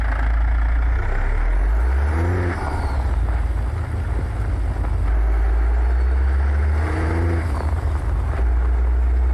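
A loud, deep Cat C15 diesel engine in a truck driving video game rumbles steadily, rising in pitch twice as it revs, heavy and close throughout.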